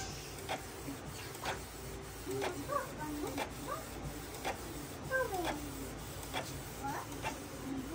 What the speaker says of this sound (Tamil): ஸோ இங்கே பாருங்கள், பிரிண்ட் ஆகிட்டு வருது பாருங்கள்.